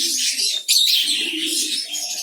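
Pigeons and doves at a village bird farm in Rangpur coo and chirp steadily nearby, a brief flutter of wings breaking in partway through, with no talk over them.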